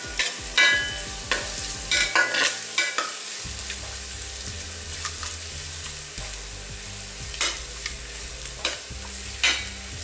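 Sliced onions fry in ghee in a pan for restaurant-style ghee rice, a steady close sizzle broken by repeated scraping stirs and clinks of a spoon, with no voices.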